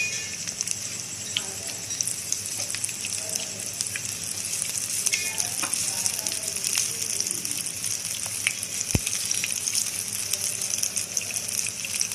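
Bread pakoras frying in hot oil give a steady, continuous sizzle and crackle throughout, with scattered sharper pops and one distinct click near the end; no one talks.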